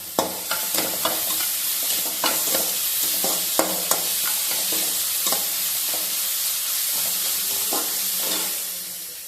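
Carrots and beans stir-fry in a hot pan with a constant close sizzle, punctuated by repeated scraping clicks of a spatula against the pan, no speech.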